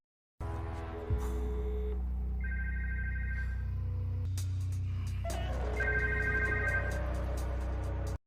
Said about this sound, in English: the phone belonging to a member of the council rang when Zhang Yao called the number